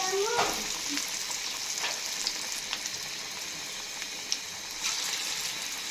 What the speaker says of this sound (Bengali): এখন আমি যে বাঁধাকপি পেঁয়াজগুলো ভেজে নেব